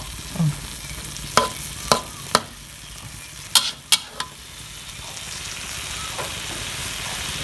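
Sharp clatters and scrapes of a utensil against a hot pan over a steady sizzle as cobra meat is stir-fried spicy with holy basil, a few distinct knocks in quick succession, close and fairly loud.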